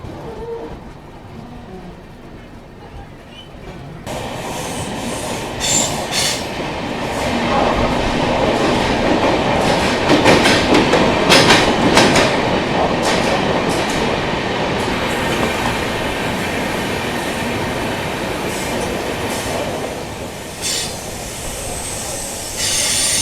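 Suvidha Express train pulling away from a station on the Mumbai–Patna route, wheels rumbling and clattering over the rails with squealing, growing steadily louder and staying close and continuous throughout, with no talking.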